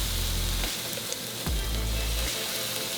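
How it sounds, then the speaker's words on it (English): Water sprinkled onto a hot grill sizzles and bubbles loudly and continuously at close range, with a few brief crackling pops. "Bubbling and sizzling right there is telling me that it's ready for grilling."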